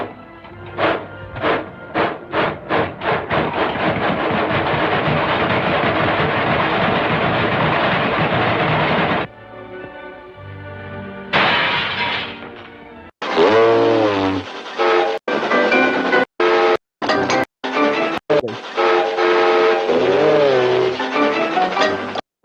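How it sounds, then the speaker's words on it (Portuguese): An old Disney cartoon train sound effect, loud and up close, with a rhythmic chugging that speeds up, then whistle and horn blasts broken by abrupt cuts and gaps. "fazer o som de um trem, né, pra frente."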